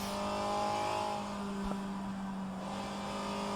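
A racing car engine in a video game, set at the 1967 Le Mans circuit, drones at high revs, a steady whining tone with a brief click partway through, sustained throughout.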